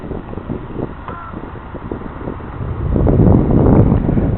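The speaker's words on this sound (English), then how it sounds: "Wind just grabs it and yanks it back up in the air." Gusting wind of around 10 mph buffets the microphone at an outdoor model aircraft flying field, a continuous rough roar that swells louder in the last second and a half.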